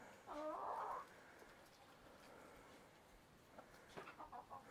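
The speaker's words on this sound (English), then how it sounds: "She knew there was a chicken in here." A rooster in a farm coop lets out one loud squawking cluck near the start, then softer scattered clucks follow faintly over quiet background noise.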